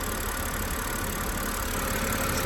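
A BMW E90 325i with the N52 inline-six engine idles steadily at close range, a continuous, even mechanical hum and whirr during a power steering flush, with no voices over it.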